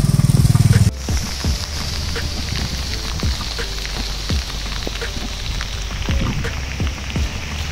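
Heavy monsoon rain pours steadily in a dense, hissing roar, with scattered close drops spattering throughout and a brief low rumble at the very start.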